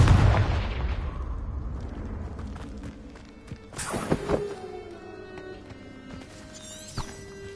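A Confringo fire spell bursts in Hogwarts Legacy, a loud explosive blast up front that rumbles and decays, followed by a second sharp burst and crackling impacts, with spell chimes and game effects in the background.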